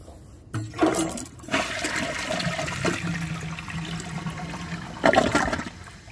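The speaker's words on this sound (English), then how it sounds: "I am going to give this another flush" A 2014 Vortens Murano toilet flushes with a loud whoosh, then water rushes and drains steadily for several seconds before a second surge of swirling water near the end.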